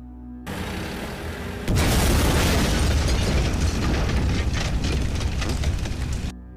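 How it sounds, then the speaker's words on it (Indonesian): A car blows up in a bomb blast, starting as a lower rumble and then bursting into a loud, sustained roar of explosion and fire that fills several seconds before cutting off abruptly. "mobil yang ditumpangi Sekar dan Kole meledak"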